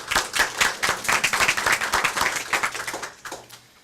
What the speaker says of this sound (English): give everybody a big round of applause for everything we do on a day-to-day basis